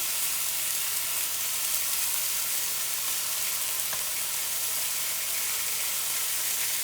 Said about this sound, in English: I'm giving it just an extra minute or so on that other side to finish browning.